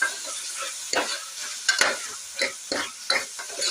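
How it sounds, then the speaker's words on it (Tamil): Diced potato and tomato sautéing in a pan for an egg gravy, with a steady sizzle broken by several distinct scraping strokes of a spatula stirring the mix, close and fairly quiet. "இது கொஞ்ச நேரம் வதங்கட்டும்."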